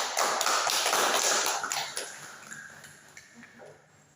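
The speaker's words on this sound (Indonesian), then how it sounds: "kita berikan aplaus lagi kepada adik Samsifa" A classroom group gives a student a short burst of clapping that starts loud and fades over a couple of seconds, leaving only faint taps and room noise as a voice begins.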